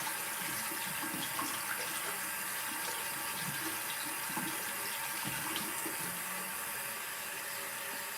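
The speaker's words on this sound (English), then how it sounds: "I'm just gonna rinse my hand off right quick." A hand is rinsed under running tap water after a lavender eucalyptus and Epsom salt face scrub, a steady splashing stream with irregular spatters as the hand moves, continuous and close, with no talking.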